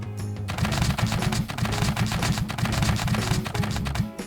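A Gatling tank in Scrap Mechanic fires rapid volleys from its extra barrels, a dense, loud, continuous mechanical rattle of shots with no speech.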